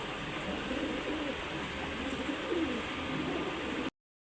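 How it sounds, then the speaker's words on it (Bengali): Hungarian High Flyer Budapest pigeons coo softly and steadily through a constant background hiss, their low murmuring calls rising a little in the middle of the short stretch. "হাঙ্গেরিয়ান হাই ফ্লায়ার বুদাপেস্ট কবুতর অনেক সুন্দর পেয়ারটি"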